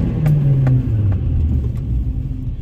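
Mercedes-AMG with 4MATIC all-wheel drive accelerating hard from a large puddle in pouring rain, a loud, steady engine rumble rising in pitch and building through the short stretch, with no talk over it.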